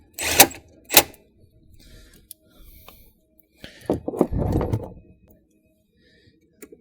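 A ratchet tightens an 8mm bolt on a battery strap during a dual 12V battery install in a Rivian R1S/R1T, heard as two sharp clacks followed by a short burst of close ratcheting clicks.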